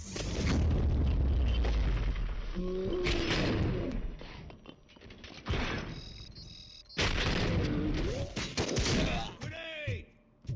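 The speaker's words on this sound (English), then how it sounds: "Grenade!" Gunfire and heavy explosions boom through a loud RoboCop: Rogue City firefight, including a grenade blast, with broadband bursts around the three- and seven-second marks over sustained combat noise while voices shout between the blasts.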